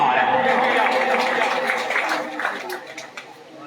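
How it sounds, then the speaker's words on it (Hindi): Audience clapping for a prize winner at a pigeon club award ceremony in Poranawal, a moderate burst of applause that fades out over a few seconds. "भाई छत्ते वाले वास्ते जोरदार तालियां यार।"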